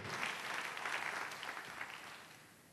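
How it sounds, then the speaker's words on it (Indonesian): A church congregation applauds during a sermon, a dense, steady wash of clapping from many hands that fills the whole moment and fades slightly toward the end. "Tepuk tangan buat Yeshua. Tepuk tangan buat dia saudaraku."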